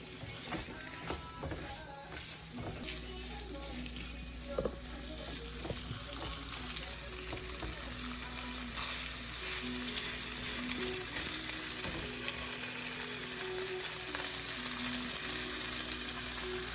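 Pork and sticky rice cakes sizzle steadily in a hot pan, a dense crackling hiss with occasional clinks and scrapes of stirring.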